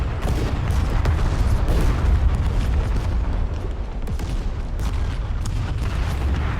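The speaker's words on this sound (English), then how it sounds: "that artillery's coming in right there" Artillery shells striking in a Vietnam War battle video game, a loud, continuous rumble of booming blasts and sharp cracks layered over one another, with no pause throughout.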